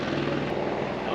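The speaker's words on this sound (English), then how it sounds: "Helicopters are coming in." A helicopter on a scenic tour over Kauai drones with a steady, loud rotor thrum heard from close by, with no pauses and no voices.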